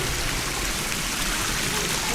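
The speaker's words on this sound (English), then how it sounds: "The sound of this water falling is just amazing." Rain falls hard in a Xishuangbanna rainforest, a dense, continuous hiss of water pouring down close by.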